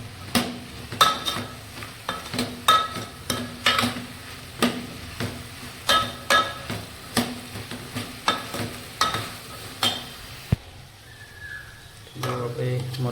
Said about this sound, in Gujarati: મરચાં નાખ્યા પછી ડુંગળી બટાકા નાખી દીધા છે.